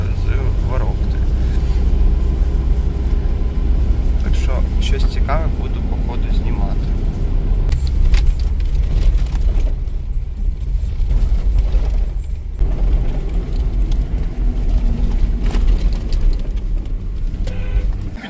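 A jeep climbs the rough mountain road up to Drahobrat ski resort, its engine and tyres making a loud, steady low rumble with road noise throughout the ride.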